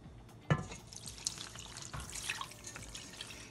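Water being poured into a pot of stuffed grape leaves with meat on the stove, heard as a sharp splash followed by a scattered trickle and small drips, fairly close and moderately quiet.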